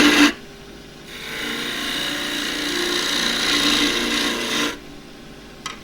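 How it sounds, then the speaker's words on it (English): A 1/2 inch spindle gouge with a 3/8 flute cuts silky oak spinning on a lathe, making a steady rasping, scraping hiss that lasts several seconds. Short quiet gaps sit before and after the cut. "This is a 1/2 inch spindle gouge with a 3/8 flute. And the wood is silky oak."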